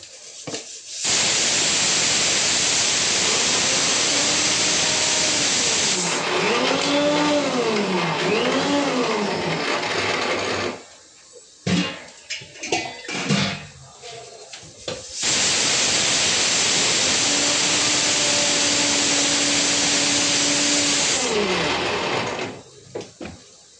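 A kitchen mixer grinder runs in two long loud bursts, grinding cardamom and spices for a juice made with jaggery. Whining motor tones rise and fall between the bursts, and a short clattering pause separates the two runs.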